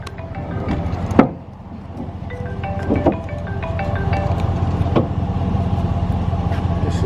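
A car driving along, giving a steady rumble of engine and road noise with a few faint clicks and knocks from inside the cabin.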